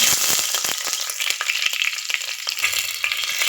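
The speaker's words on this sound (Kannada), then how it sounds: "ಸಾಸಿವೆ ಕಾಳು ಮತ್ತು ಮೆಂತ್ಯ ಕಾಳು ಚೆನ್ನಾಗಿ ಸಿಡಿದಿದೆ." Mustard and fenugreek seeds splutter and crackle in hot oil for a fish head curry, with dense, rapid popping and sizzling close up that stays lively throughout, with no speech.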